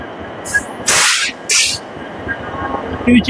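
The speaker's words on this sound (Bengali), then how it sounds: "আমার কাছে চলে এসেছে আমাদের হাওড়া তিরুচিপল্লি এক্সপ্রেস" The Howrah–Tiruchirappalli Express pulls into platform 21 at Howrah station's new complex, its low rumble running throughout, broken by several loud bursts of hissing air.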